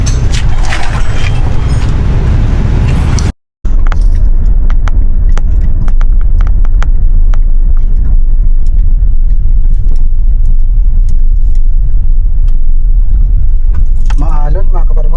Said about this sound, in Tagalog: paminsan-minsan ko lang itong ginagamit itong ating sasakyan dito sa ating farm dahil nga papunta dito pag sasakyan maalon